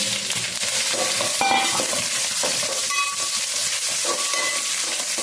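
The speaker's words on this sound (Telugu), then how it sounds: "ఎండుమిరగాయలు అయితే ఈ విధంగా వేయించుకున్నాను" Dried red chillies frying in a pan for gongura chutney, a loud continuous crackling sizzle with bursts of hiss and occasional scraping of a utensil, close and unbroken, with no speech.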